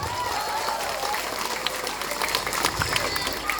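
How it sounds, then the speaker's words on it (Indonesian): An audience at a Sundanese Maulid gathering in Ciuya applauds during a humorous sermon by a preacher, steady moderate clapping mixed with crowd murmur and voices. "Tepuk tangan untuk masyarakat Ciuya"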